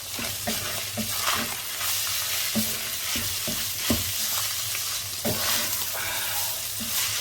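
Curry powder and turmeric are stirred into a sizzling frying pan, with a steady close frying hiss under repeated scraping and tapping strokes of a utensil against the pan.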